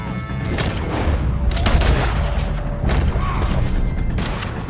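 Gunfire aimed at O'Driscoll gang members in the video game Red Dead Redemption 2, a dense run of loud booming shots and cracks over layered game sound, several blasts coming in quick succession.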